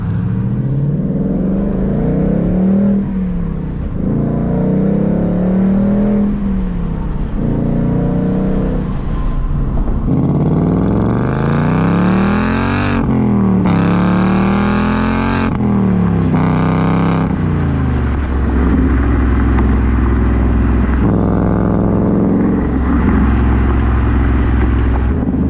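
Ford Mustang GT with active exhaust set to Sport Plus mode, loud V8 burble rising and falling through repeated revs and acceleration pulls, deep rumble steady throughout with no talking.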